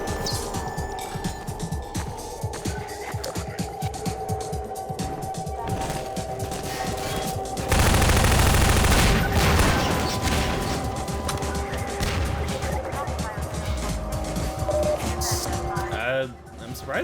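Submachine-gun fire in Half-Life 2, a dense sustained burst of shots with chaotic game sounds before and after, heard under someone talking.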